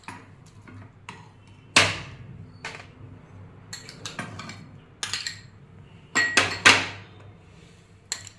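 A spoon stirs fruit into cooled custard milk in a bowl, giving scattered clinks and taps against the dish. The knocks come at irregular intervals, sharper bursts near the middle and end, with no talk.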